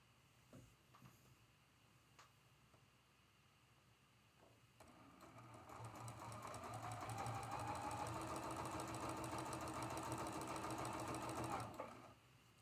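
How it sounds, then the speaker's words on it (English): A sewing machine sews a seam joining green fabric into a Shooting Squares quilt block. A faint, even motor hum starts after a few quiet seconds and runs steadily for about seven seconds, alone, before cutting off. "flip that green over, match up that raw edge, and sew that seam."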